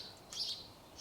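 A single bright bird chirp rings out outdoors during a hot summer walk, brief and moderately distant over quiet background hiss.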